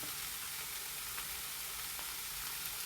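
A spinach stir-fry with salt sizzles steadily in a pan while being stirred, a soft, continuous hiss with a few faint scrapes, quiet and without talking.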